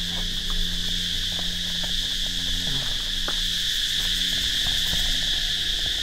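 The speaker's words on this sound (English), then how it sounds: "those are bugs from the trees and they're so loud" Tropical insects in trees at an abandoned resort in Thailand, a loud, steady high-pitched droning buzz that fills the air throughout, over faint low rumbles and occasional clicks.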